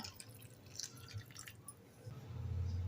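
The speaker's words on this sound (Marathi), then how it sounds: "अजून थोडं पाणी घालूया" Water poured into a pot of Malvani chicken curry, a soft dripping and trickling pour that builds toward the end, fairly quiet and close with no talk.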